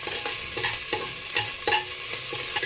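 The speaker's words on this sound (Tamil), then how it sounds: "இதுக்கப்புறம் வெங்காயம், கொஞ்சம் வரமிளகாய், கொஞ்சம் கருவேப்பிலை போட்டு கொஞ்சம் வதக்கணும்." Onion, dried red chillies and curry leaves sautéing in a pan for a Kongu-style rasam: a close, steady sizzle broken by rhythmic stirring scrapes about twice a second, no voices.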